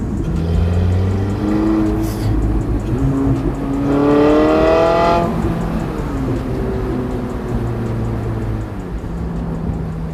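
Porsche 918 Spyder hypercar driven with the roof off, a loud continuous engine note with rising and falling pitch as it revs and accelerates, exhaust and intake roar swelling strongly around the middle before easing back.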